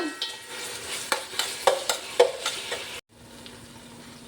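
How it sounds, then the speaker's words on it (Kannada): Tomatoes frying with browned onions in a pan for chicken biryani, a steady sizzle broken by repeated stirring scrapes that ends abruptly, leaving a quieter low hiss alone. "ಈಗ ಈರುಳ್ಳಿ ಬ್ರೌನ್ ಆಗ್ತಾ ಬರುವಾಗ ಒಂದೂವರೆ ಟೊಮೆಟೊ ಹಾಕ್ತಾ ಇದ್ದೀನಿ ಇದು ಚೆನ್ನಾಗಿ ಫ್ರೈ ಆಗಬೇಕು ಟೊಮೆಟೊ"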